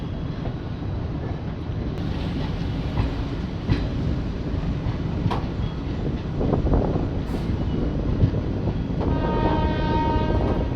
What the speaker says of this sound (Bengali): ফাইনালি ব্যান্ডেল থেকে ট্রেন ছাড়লো